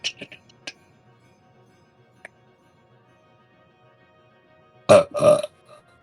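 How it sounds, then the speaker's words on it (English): Two loud, close burps land near the end, after faint scattered clicks and ticks during a mostly quiet stretch. "And then you hear one of the other people burp"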